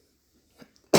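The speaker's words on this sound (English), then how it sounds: "I'm dealing with a cough." A single sharp cough bursts out close to the microphone after a near-silent pause, preceded by a faint throat sound.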